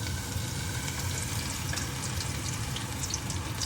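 Crushed garlic cloves, still in their skins, fry in oil in a ladle with a steady close hiss and sizzle, and faint pops flicker through.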